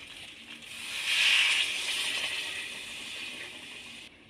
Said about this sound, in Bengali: এবার আমি এক বাটি মতো জল দিয়ে দেব